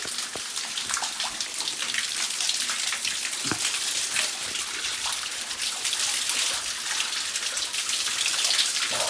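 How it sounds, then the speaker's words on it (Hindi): Water from a natural mountain spring, channelled so people can fill containers, splashes and trickles steadily at close range, with a continuous hiss of falling water and small irregular drips. "तो ये हमारे प्राकृतिक स्रोत है दोस्तों, जिससे नेचुरल अपने आप पानी आता है।"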